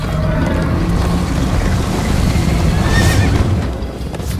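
A Minecraft: Story Mode horse neighs over a rushing gallop of hooves, with a windy, open-air wash behind. The sound is loud and sustained, and no one speaks.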